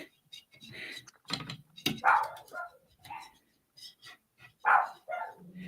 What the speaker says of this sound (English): I think my pups are letting me know the mailman's here.